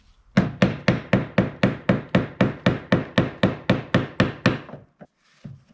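Metal fuel pump lock ring on a 1999 Ford Expedition being tightened with about fifteen rapid, evenly spaced hammer taps, close and sharp, followed by a couple of faint knocks.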